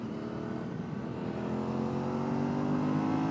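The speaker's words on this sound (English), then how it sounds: "You see how slow it accelerates to like from 70 to 90 on the third gear." A Yamaha Ténéré 700 motorcycle pulls in third gear from about 70 to 90, a steady loud engine drone that rises slowly in pitch mixed with wind rush, no talking.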